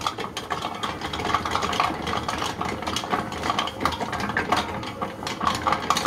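Compact Cook Platinum food processor running while heating chocolate with milk in its bowl, giving a steady motor whir with a low rumble and faint rhythmic mechanical pulsing.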